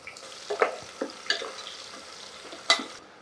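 Onions and green chilies frying with masala spices in a pressure cooker, a soft steady sizzle broken by a few scraping stirs of a spoon, close and fairly quiet with no talk.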